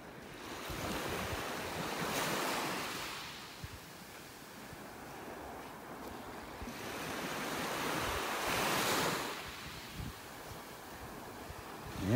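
Surf washing onto a beach in North Naples, Florida, in slow swelling surges every several seconds, with wind buffeting the microphone throughout and no voices.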